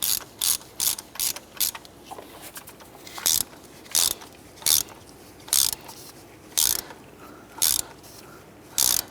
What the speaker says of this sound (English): Let's go ahead and get our socket on there.